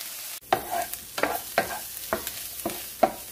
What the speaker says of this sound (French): L'oignon que voici. Voilà, je vais le mélanger.